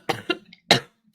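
A person coughs three times in quick succession, two short hacks followed by a longer, harsher one, close and fairly loud.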